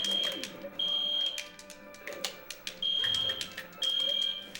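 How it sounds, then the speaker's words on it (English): A fire alarm goes off loudly in long, piercing high electronic blasts separated by short gaps, over a noisy indoor background with faint voices. "fire alarm's going off"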